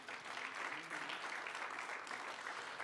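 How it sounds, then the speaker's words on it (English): Steady, sustained applause from an audience at a business forum, filling the room evenly as a guest speaker is welcomed to the stage, moderately distant and dense throughout. "Give her a warm round of applause there."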